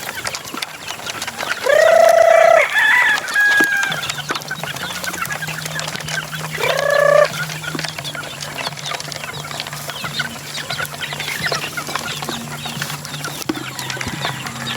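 Fighting-cock chicks on a farm being fed, with a couple of loud bursts of clucking and chirping near the start and again around seven seconds, over a steady low hum and background farm noise.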